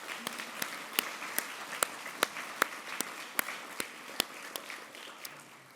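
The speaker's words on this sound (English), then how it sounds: "let's give them a round of applause" Audience applause at a living endowment dinner program, heard as a steady rattle of many hands with sharp individual claps standing out at regular intervals, fairly distant and moderate in level, with no talking over it.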